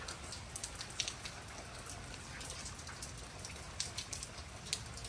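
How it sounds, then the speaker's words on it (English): Heavy rain pours down steadily, with dense, constant patter and scattered louder drops hitting a surface nearby. No voices. "It's raining right now. It's fucking pouring."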